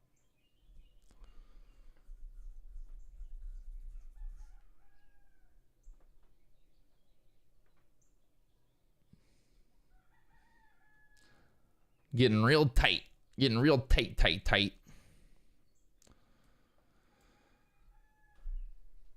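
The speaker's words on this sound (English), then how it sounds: "The roosters are crowing, though." Roosters crow in a cluster of loud, drawn-out cock-a-doodle-doo calls a few seconds long, with someone talking quietly before them.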